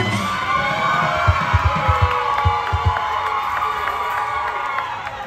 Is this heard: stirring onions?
no